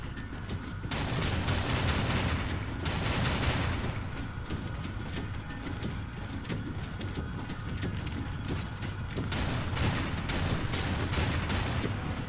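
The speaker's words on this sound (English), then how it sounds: "Am I not allowed to enjoy shooting him?" Death firing his guns in Darksiders 2, a dense, sustained barrage of rapid shots lasting the whole stretch, with a few brief lulls before the shooting resumes at full intensity.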